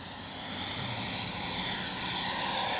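A Freewing F-18 90mm RC jet flies overhead, its ducted-fan engine producing a steady, loud roaring whine that swells slightly, heard alone without talk.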